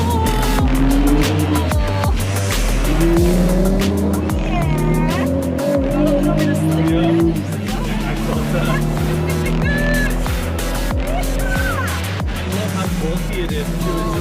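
A Ford GT supercar drives on Dubai roads, its engine loud and continuous with squealing tires, while people talk over it.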